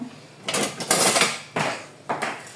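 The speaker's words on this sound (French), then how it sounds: "Je vais quand même prendre un fouet pour bien remuer tout ça" Eggs whisked by hand in a bowl for a dark chocolate tart filling, giving bursts of clattery scraping and tapping in several uneven strokes, close and fairly loud with short pauses between.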